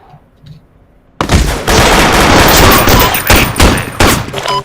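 AK rifle fire in a video game starts abruptly after a quiet moment, a loud sustained stream of rapid shots with short breaks between bursts.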